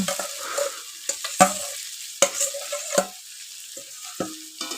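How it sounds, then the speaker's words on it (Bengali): Potato pieces fry in a pan with repeated scraping stirs of a spatula over a light sizzle, several distinct knocks and scrapes spaced across the few seconds, close by. "তো আলুটা এখন ভালো করে ভেজে নেব"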